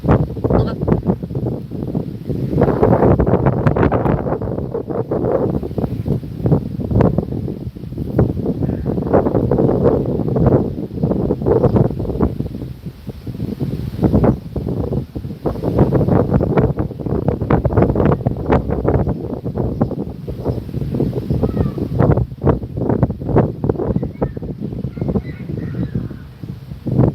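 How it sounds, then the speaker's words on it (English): Strong wind buffets the microphone outdoors in loud, uneven rumbling gusts that rise and fall for the whole stretch, with no talking. "I'm gonna end the live stream here because it's like so windy."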